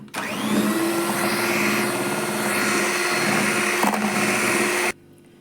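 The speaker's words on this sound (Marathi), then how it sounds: "आता मी बिटरच्या साह्याने याला एक जीव करते पूर्णपणे मिक्स करते" Electric beater whirring steadily as it mixes pineapple crush into a homemade ice cream base, a loud continuous motor drone lasting several seconds before cutting off abruptly.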